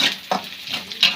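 Pasta ingredients frying and being stirred in a pan, with soft sizzling and a few scraping stir strokes over about a second.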